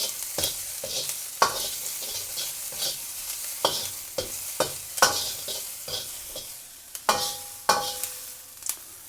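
Chopped pepper and onion stir-frying in a hot wok for Chinese special fried rice, a steady sizzle broken by repeated sharp scrapes and clanks of the utensil tossing the food, close and without speech.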